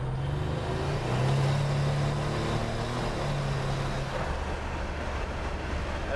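A Buick Grand National running at about 24 pounds of boost pulls in second gear with a steady, low engine drone that holds at a fairly constant level throughout, with no voices.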